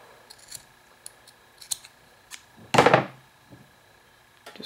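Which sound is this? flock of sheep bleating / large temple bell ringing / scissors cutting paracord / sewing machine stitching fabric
scissors cutting paracord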